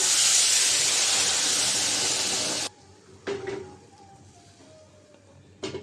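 Water poured into a hot pan of spiced hilsa fish sets off a loud, dense hiss of steam that cuts off abruptly, followed by a few light clinks and scrapes.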